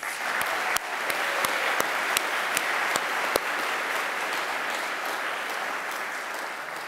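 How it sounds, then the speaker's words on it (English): A graduation ceremony audience applauds student speakers: dense, steady clapping from a crowd fills the whole stretch, with a few sharper, closer claps standing out near the start. "if we could give them a round of applause"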